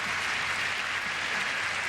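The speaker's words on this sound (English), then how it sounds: "And the crowd encouraging her to step back up." A college gymnastics crowd at a women's meet, Florida at Alabama, applauds steadily as a dense, even wash of clapping and cheering that fills the whole moment without a break.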